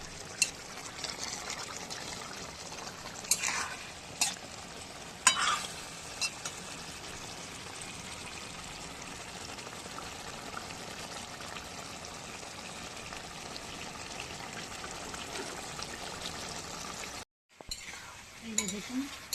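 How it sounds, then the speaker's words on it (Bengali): Food is sautéed and stirred continuously in a pan for a Bengali kosha dish, making a steady sizzle and wet scraping with occasional louder scrapes. The sound briefly cuts out near the end. There is no talk. "এই যে দেখুন সমানে কষিয়ে নিচ্ছি আমি"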